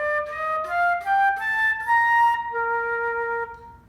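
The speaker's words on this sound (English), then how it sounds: "But a flute sounds something like this." A flute plays a short, clear melodic phrase of several sustained notes, the last one held longer, solo and close with no talk.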